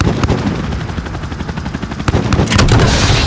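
Dense gunfire and heavy rapid shots roll through a military action-film battle scene, joined by a louder surging blast near the end as a missile launches, with rotor-like rumble beneath and no voices.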